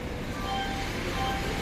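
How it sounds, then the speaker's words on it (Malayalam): A train draws near on the way to Padannakkad, heard as a steady low rumble with faint tonal whines over broad noise, continuous and fairly quiet, no talk. "ഏതോ ട്രെയിൻ വരുന്നുണ്ട്"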